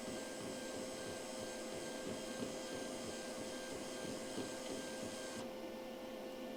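Motor of a MIG/MAG welder's wire feeder turns the wire spool with a steady, even whir and hum that holds for several seconds before easing slightly near the end.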